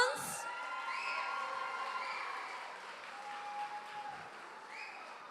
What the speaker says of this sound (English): Let's have a big round of applause to CMG Home Loans